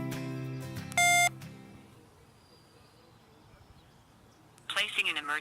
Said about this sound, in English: hold your help button down for about 3 seconds until it beeps